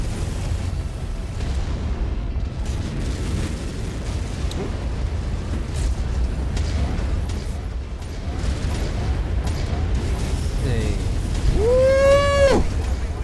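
Autocannon fire and blasts from a battle in MechWarrior 5, heard as a dense rumbling barrage of thuds and bursts ending in a rising mechanical whine, loud and continuous.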